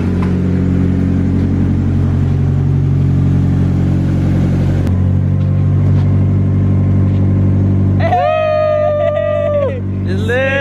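A Nissan S14 car engine runs steadily throughout with a loud, continuous low idle rumble, joined near the end by a higher tonal whine; people talk in the background.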